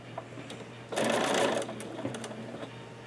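A home sewing machine stitches quilt-block fabric in one steady burst of about half a second, close and fairly loud, with soft handling clicks and quiet low hum before and after.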